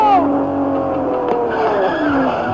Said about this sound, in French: Et là, ma moto!